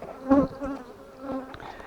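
Honey bees at an abandoned apiary, unattended for two years, beside forest flowers, acacia and linden: a close, steady buzzing drone with wingbeat tones rising and falling, loudest early, with no voices.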